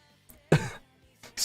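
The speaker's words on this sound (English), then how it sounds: "Stream while I'm coughing disgustingly into the mic." A person coughs and clears their throat close into a microphone, two or three short harsh bursts separated by brief silences.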